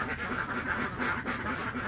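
Ducks in a pen quack continuously in a busy, overlapping chorus, close and steady with no talking.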